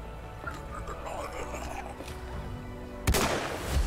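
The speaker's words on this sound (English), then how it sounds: "I just have to shoot him with the gun" A single loud gunshot in the video game The Black Masses cracks out near the end, after a stretch of quieter game ambience with soft voices underneath.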